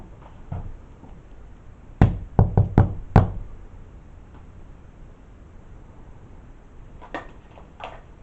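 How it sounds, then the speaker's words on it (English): Knocks on a surface in an old mansion during a paranormal investigation: a quick burst of about five sharp raps, close and loud, followed by quieter faint knocks later against a low background hiss. "I'm gonna knock."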